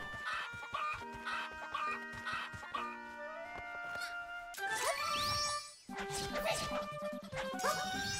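Chickens cluck in The Legend of Zelda: Echoes of Wisdom, repeated bright game clucks mixed with jingly chimes and music, under someone talking excitedly.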